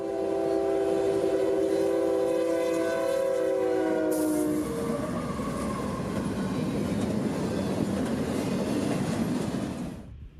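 An intermodal freight train roars north through Folkestone, Georgia, with a long blaring horn blast, then continuous rumbling and rattling of wagons rolling by at speed before it fades.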